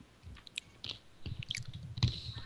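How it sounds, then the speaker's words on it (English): Crunchy chewing of hard-shelled peanut butter M&M's, close and fairly quiet, with several irregular crunching bites building toward a louder crunch near the end. "I'm eating peanut butter M&M's."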